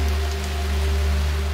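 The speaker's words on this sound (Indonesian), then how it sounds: "Ditambah saat itu mulai turun hujan." Rain falls steadily in a horror film, with a dense, even hiss of drops on surfaces and a low rumble underneath, constant throughout with no voices.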